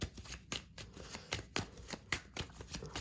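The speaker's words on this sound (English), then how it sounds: "I'm here to shuffle these gold cards for you." Gold tarot cards riffle and snap in quick repeated bursts, close and crisp, with no talking.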